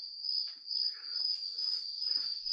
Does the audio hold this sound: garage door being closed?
no